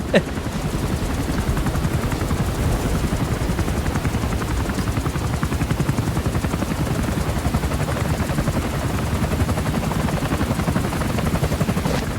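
Steady rhythmic rotor chop of a video game helicopter in flight (Metal Gear Solid V), loud and continuous, with a dense mechanical drone throughout.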